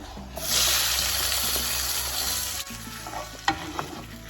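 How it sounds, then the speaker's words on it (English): Chopped onion and tomato hit a pot of heated oil, erupting into a loud close sizzle that settles into steady frying, with a few utensil clinks and knocks near the end. "So to this pot that I already have some oil heated up in, I'm gonna add in these chopped up onion and tomato."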